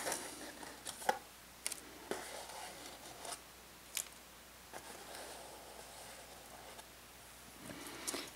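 Scissors snip repeatedly while a small fabric bag is being made, with scattered short cuts and clicks spread across the stretch over a quiet room background.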